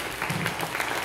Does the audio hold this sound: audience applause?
yes